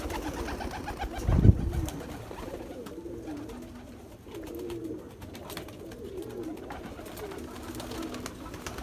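Nagpuri tumbler pigeons coo softly in a repeating, low rolling rhythm close by, with one sharp louder call near the start and a steady background hum.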